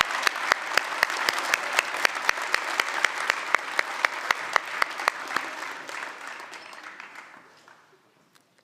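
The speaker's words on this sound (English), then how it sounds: "so we can give you a clap" At a community awards event, an audience applauds a skateboard association with a full, even roar of clapping and crisp individual claps on top, holding strong before tapering off into near silence.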